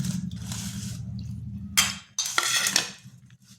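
Water poured over drumstick flowers in a bowl, a low gurgling pour that stops, then a couple of bright splashy washes and clinks of the bowl, close and fairly loud in a quiet kitchen.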